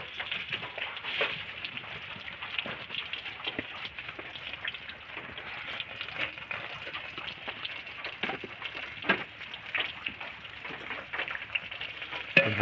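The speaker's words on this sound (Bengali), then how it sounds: "পেঁয়াজ এবং রসুন, তেজপাতা এবং তেল দিয়ে নিচ্ছি। এবার ভালোভাবে ভেজে নেব।" Onion, garlic and bay leaf fry in oil in a pan, an even close sizzle peppered with crackles and soft stirring clicks, no one talking.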